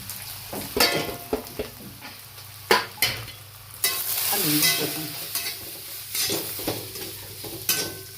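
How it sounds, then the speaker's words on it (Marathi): Spice masala frying and being stirred in a pan for katachi amti, a Marathi lentil curry, with curry leaves and cumin: a steady sizzle broken by repeated scraping stirs and light clinks of the utensil against the pan, close by. "हा मसाला टाकून घ्यायचा सगळ्यात म्हणजे भाजून निघतो"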